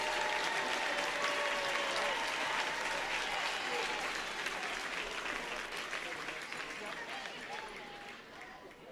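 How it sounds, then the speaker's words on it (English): Audience at a school district employee awards ceremony applauding elementary educators of the year, a dense steady round of clapping mixed with crowd murmur that slowly fades toward the end. "Please give them a nice round of applause."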